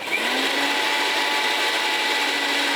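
A kitchen mixer grinder blends grated peeled beetroot with a little water into a paste, giving a loud, steady, high-pitched whirring motor hum that runs unbroken throughout.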